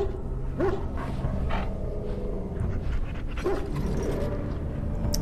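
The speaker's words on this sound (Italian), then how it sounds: "Questo cane ci avrebbe aiutato sicuramente." A dog in the video game Dragon Age: Origins whimpers and pants, with short high whines rising over steady breathy panting against a dense, noisy game background.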